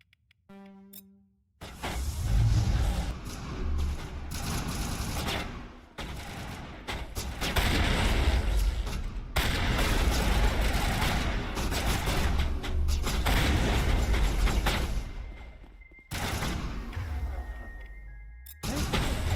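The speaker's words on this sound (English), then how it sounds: "Who's shooting at me?" Sustained heavy gunfire in the Mass Effect video game, loud dense bursts of weapon fire with crashes and thuds running almost continuously, briefly dropping out before resuming.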